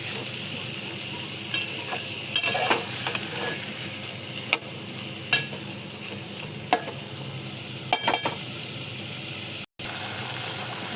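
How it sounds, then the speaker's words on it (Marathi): Prawn biryani rice being stirred in a frying pan, a steady close sizzle with scraping spoon strokes and occasional clacks against the pan, continuing without talk and cutting out briefly near the end. "कोळंबी टाकल्याच्या नंतर पुन्हा आपण एकदा सगळं असं मिक्स करून घेणार आहे"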